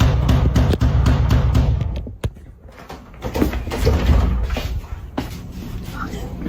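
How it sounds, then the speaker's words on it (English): A man bangs on a house door during an attempted break-in, heavy repeated thuds with strong low rumble, loud and close, some bursts sharp and others muffled, with voices heard alongside. "I actually have a clip of this dude banging on the door."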